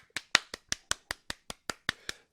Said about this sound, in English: Quick round of applause for the Brisbane Roar, top of the table by 7 points.